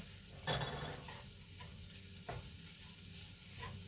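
Rice and vegetables for a taco bowl being stirred in a pan, a soft steady scraping with a louder knock near the start and another around midway, light sizzle underneath, no voices.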